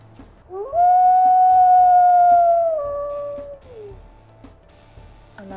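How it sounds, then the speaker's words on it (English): A video-game wolf in WolfQuest lets out a secondary howl: a rising onset into a steady held tone that then drops and trails off, loud and near, followed by quiet game background. "And secondary howl."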